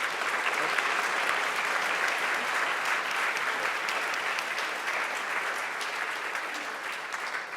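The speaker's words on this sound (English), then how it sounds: "round of applause for David" A keynote audience gives David a steady round of applause, dense clapping from a large crowd that holds evenly throughout with only a slight easing toward the end.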